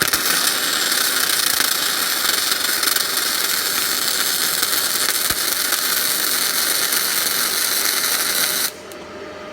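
Gasless flux-core welding machine laying a bead with about 1 mm wire, a steady, even crackling sizzle like frying bacon, loud and close for several seconds before cutting off abruptly, with no talk over it.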